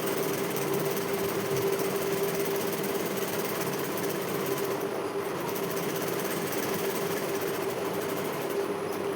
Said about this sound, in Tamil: இப்போ அப்படியே அந்த மேல் கிளாத்தில் லைனிங் தையல் ஓட்டிக்கலாம்.